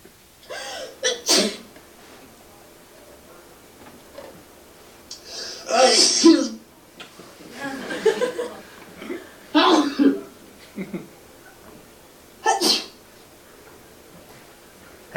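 A series of separate sneezes, some sharp and explosive, others with a gasping intake before them, spaced out with quiet gaps in between.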